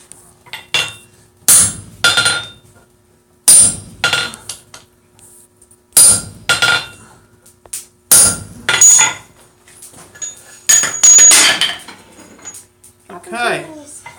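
Metal hammer striking a hot rivet set in a rivet die block, sharp ringing blows in uneven bursts of two or three with short pauses between, loud and close, ending in a rapid rattle of lighter taps.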